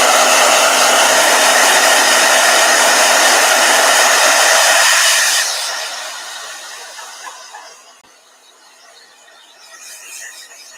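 A blow dryer roars loudly with a steady airy whoosh for about five seconds, then winds down and trails off into quiet hiss.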